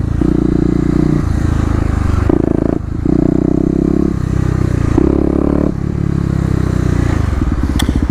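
A Kawasaki KLX250 dirt bike ridden in second gear in the city in cold weather, its engine droning loud and close with repeated rises and dips in pitch as the throttle changes, plus some rattle and wind noise.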